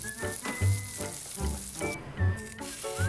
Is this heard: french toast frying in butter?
yes